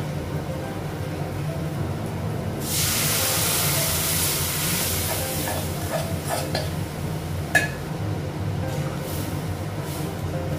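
A gas stove burner is turned up while rice cooks, and a broad steady hiss of rushing flame rises partway through over a low background hum, along with a few light clinks of utensils.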